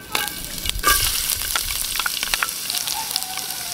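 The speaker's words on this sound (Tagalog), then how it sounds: "Mag-isa na tayo ng bawang." Garlic sautéing in a pan for pancit with octopus, a bright, crackling sizzle with utensil scrapes and clinks near the start, close and steady throughout, with no voices.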